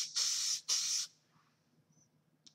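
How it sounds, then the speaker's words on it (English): Two quick bursts of hairspray from an aerosol can aimed at styled hair, each a bright close hiss lasting about half a second, followed by near silence with faint rustling. "You want to spray that portion that you just tucked down."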